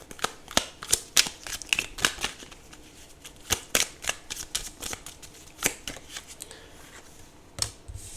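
Tarot cards being shuffled by hand, a steady run of crisp riffling snaps and slaps close up, faster at first and then slowing, with no speech.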